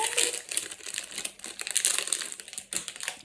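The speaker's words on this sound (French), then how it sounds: "Alors, on déballe ensemble." Close crinkling and crushing of a plastic package of makeup being unwrapped, a busy run of rustles and crackles with brief pauses and no voice over it.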